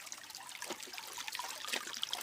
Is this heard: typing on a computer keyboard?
no